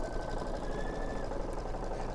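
An embroidery machine on a Baby Lock stitches a quilted place mat held in the hoop, giving a steady, close whirring drone that runs unbroken with no talking.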